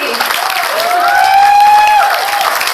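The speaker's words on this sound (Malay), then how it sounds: "beri tepukan gemuruh pada MC hebat saya, Nur Banon tadi." A crowd applauds loudly for the MC at a seminar, with dense continuous clapping and a rising whistle-like cheer over it, swelling in the middle and staying close and strong throughout.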